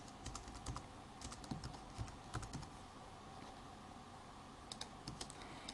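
Keys clatter on a computer keyboard as a class name is typed into a classroom setup screen, quick uneven bursts of clicks with short pauses, fairly quiet and close against a faint background hiss.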